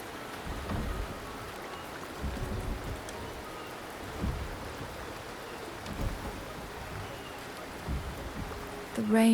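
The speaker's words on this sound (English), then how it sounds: "The rain is subsiding" Steady rain falls in the game Wuthering Waves as a soft, even hiss with scattered low patters and faint distant rumbles, and a brief louder sound comes at the very end.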